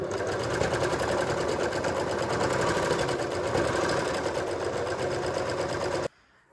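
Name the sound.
overlocker serger sewing fabric for a draped top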